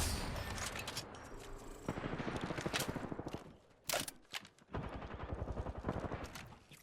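Rapid bursts of gunfire and shotgun blasts in a ranked online shooter match, with repeated sharp shots at varying distances.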